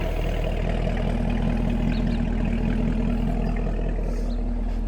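A 2019 Camaro 2SS 1LE with active exhaust idles steadily, a loud, deep, rumbling V8 burble with an even lumpy pulse and no talk over it.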